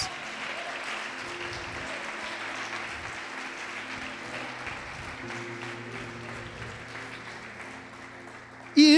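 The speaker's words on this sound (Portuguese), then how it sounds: "Pode aplaudir e glorificar a Deus." A church congregation claps in praise during a worship service, a steady mass of applause with murmured voices beneath and a sharp burst at the very end.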